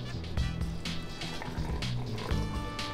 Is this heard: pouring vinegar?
yes